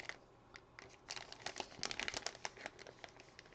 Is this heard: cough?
no